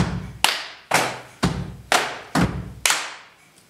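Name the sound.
group clapping hands in rhythm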